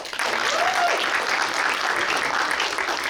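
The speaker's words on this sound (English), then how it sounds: "Give them a round of applause." Audience at a poetry showcase applauding the poets Marzetta and Shasparay Irvin, a full, sustained burst of clapping that holds steady and fades slightly at the close.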